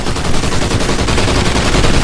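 Rapid automatic gunfire in the Call of Duty: Ghosts video game, a loud, dense stream of close shots with a steady rattling rhythm and no talk.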